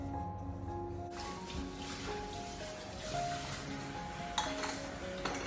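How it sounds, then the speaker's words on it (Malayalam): Dishes and pots being washed at a home sink, with a steady run of water and scattered clinks and knocks of utensils, fairly quiet with no talking. "എനിക്ക് കുറച്ച് പാത്രം കഴുകാണ്ടായിരുന്നു, കുറച്ച് അധികം ഉണ്ട്"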